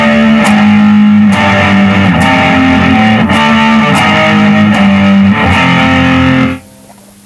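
A heavily distorted electric guitar plays loud, sustained chords and notes in a steady riff for about six seconds, then cuts off abruptly into near silence, with no voices.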